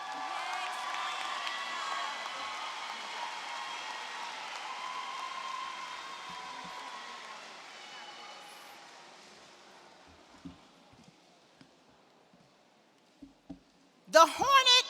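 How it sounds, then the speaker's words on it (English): A crowd applauds and cheers for a woman being honoured at a Hornet school gathering. The sustained roar fades away after several seconds, leaving a few faint knocks and then a sudden loud burst at the very end. "Give her a round of applause, Hornet."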